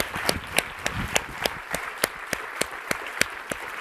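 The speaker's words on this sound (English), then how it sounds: "stand up and big round of applause to Madame Christine Lagarde, back at the IMF." Scattered, rhythmic clapping from a standing audience at a central banking lecture honoring Christine Lagarde of the IMF, sharp individual claps at a steady beat over a hushed room.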